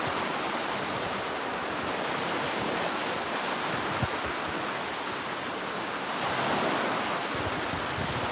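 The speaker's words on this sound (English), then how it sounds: "Can you guys hear me over the waves and wind and all that?" Surf rolling onto a wilderness shoreline with wind blowing across a camp, a continuous hiss and wash of breaking waves at moderate distance, no voices over it.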